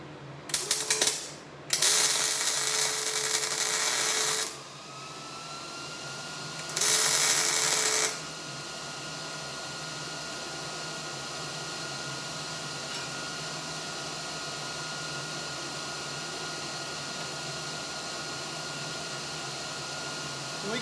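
Tack welding a steel bar onto a steel plate for a solar mount: several short bursts of harsh crackling buzz, the longest lasting a few seconds, then a quieter steady mechanical hum continues alone.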